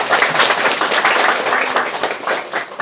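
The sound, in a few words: congregation clapping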